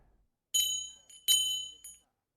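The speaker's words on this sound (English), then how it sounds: "Then a bell began to ring." An audio-story sound effect of a bell ringing in a house: two bright, clear rings a moment apart, each followed by a short softer chime, set against silence.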